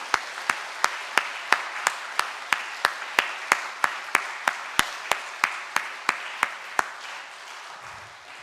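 A church congregation applauds to celebrate and encourage the children: sharp, evenly spaced claps ring out in a steady rhythm over a softer wash of applause for about seven seconds, then stop.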